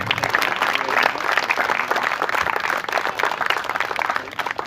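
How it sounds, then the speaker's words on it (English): Crowd applause at a cricket event remembering coach Mike Nathan, many hands clapping steadily and fairly loud, with a faint low rumble of the room underneath and no talk. "You can clap"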